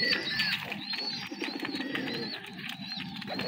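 Jalali pigeons coo in low, repeated throaty phrases close by, with thin higher chirps from other birds scattered over a steady background.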